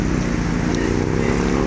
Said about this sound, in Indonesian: Itu motornya.